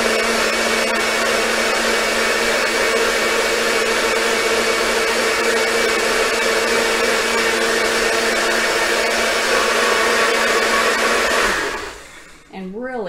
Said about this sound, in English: And then blend that up in there.